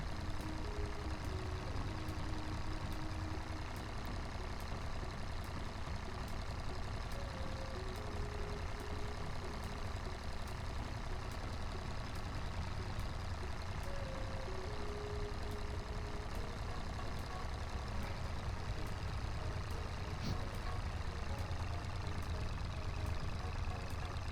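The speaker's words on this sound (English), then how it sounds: "the engine of this thing sounds way beefier than it actually is" A tractor engine in the Farming Simulator 25 video game drones steadily and loudly, a deep, beefy hum that holds constant for the whole stretch with no talking over it.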